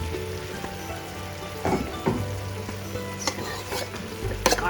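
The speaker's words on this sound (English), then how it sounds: "saute the onions for a couple of minutes, and then you're going to add the chopped up bacon" Onions and chopped bacon sauté in olive oil in a pot for corn chowder, a steady close sizzle with occasional stirring scrapes and clinks of a utensil against the pan.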